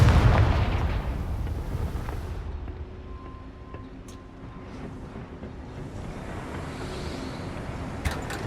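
Confringo fire spell blasting in Hogwarts Legacy: a loud, deep boom opens with heavy rumble that slowly fades, followed by quieter game ambience and a few faint sharp clicks, with no voices.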